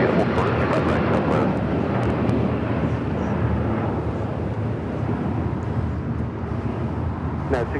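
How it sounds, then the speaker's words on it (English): A United Airlines Boeing 757-300 jet takes off at LAX, a steady, broad roar heard from a distance that holds through the whole stretch with wind and airport noise around it. "That was United Airlines, a 757-300 heading to"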